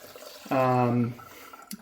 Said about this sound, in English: So now we're going to fill it up with water.